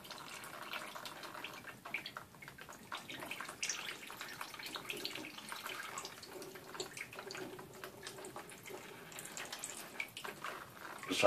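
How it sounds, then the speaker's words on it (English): Water draining off a Thanksgiving turkey in a pan, a soft irregular trickling and splashing with scattered drips and small clatters, fairly quiet and close, no talking. "Just trying to drain some of the water off of it."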